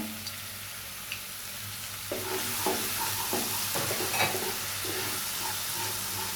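Ginger paste frying in a pan with steady sizzling underneath, while a spoon scrapes and stirs in a run of rhythmic strokes that grows busier partway through, close and clear, no talking.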